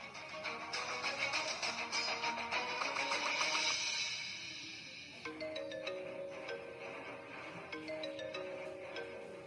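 A phone ringtone plays a repeating electronic melody, moderately loud, shifting to a different tonal pattern midway with no voices.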